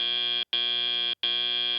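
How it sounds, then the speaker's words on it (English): A buzzing electronic alarm at a FIRST Tech Challenge robot competition sounds in three long, steady blasts with brief gaps between them, loud and alone. "that alarm means we are entering our teleop period where the robots are now controlled by our drivers"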